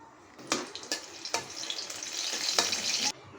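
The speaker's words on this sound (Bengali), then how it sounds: "আমি এখানে বাগারের জন্য শুকনো মরিচ দিয়ে দিলাম" Dried chillies hit hot oil for a tempering over boiled greens, giving a steady close sizzle broken by a few sharp crackling bursts, with no voices.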